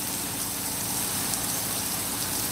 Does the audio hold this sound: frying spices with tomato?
no